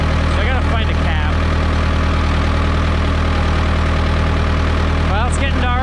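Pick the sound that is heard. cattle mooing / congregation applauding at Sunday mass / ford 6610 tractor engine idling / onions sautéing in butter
ford 6610 tractor engine idling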